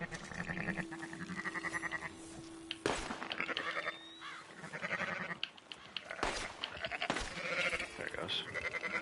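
Sheep bleat repeatedly in the Red Dead Online video game, mixed with game ambience and other effects, while people talk over the scene.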